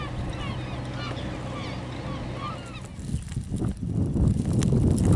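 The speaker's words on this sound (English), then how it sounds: "Look at all the birds behind the boat." Birds following a returning fishing boat near Chincoteague Island, a flock honking and calling in a busy overlapping chorus, fading as wind and water noise grow louder toward the end.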